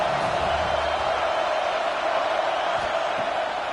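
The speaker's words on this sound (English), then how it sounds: "This crowd bringing the energy and noise early." A large American football stadium crowd roars steadily, a dense wash of cheering and shouting that holds at full volume throughout with no pauses.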